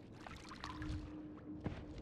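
Water poured onto a fire in the video game Noita, a soft continuous pouring and trickling wash with faint splashy bursts, heard alone at low level.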